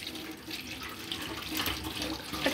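Water from a tap runs steadily into a sink as finely chopped potatoes are rinsed for hash browns, a continuous splashing rush with no voices.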